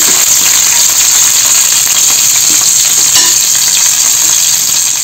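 Green chillies fry in a hot pan with steady, close sizzling and crackling that runs without a break, and there is no talk.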